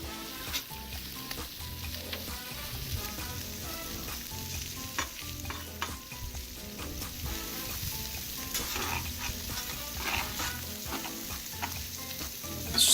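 Pork chops sizzling on a Blackstone griddle, with a continuous dense crackle and spatter, loud and close, with occasional scraping and stirring sounds and no talking.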